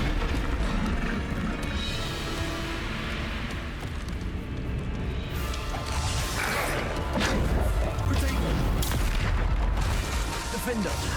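Bombarda blasting spells from Hogwarts Legacy boom and crash in the middle of dense, loud combat, with heavy impacts layered over one another. A voice speaks throughout.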